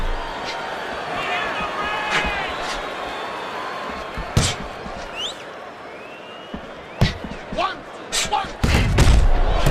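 Punches land in the boxing video game Fight Night Round 4 as scattered sharp thuds and slaps, some in quick pairs, over a steady crowd murmur, with a commentator talking throughout.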